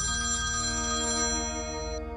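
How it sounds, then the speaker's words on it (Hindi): A telephone rings as a sound effect in a narrated wedding-day story, a steady electronic ringtone trilling continuously for about two seconds before cutting off, with no voice over it. "तभी उमाकांत जी को लड़के वालों का फोन आया।"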